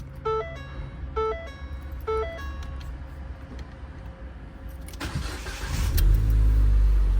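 A wrecked Ford Fiesta under repair is started with the key. A chiming warning tone repeats three times first, then the engine cranks and catches, and its low rumble swells and holds steady.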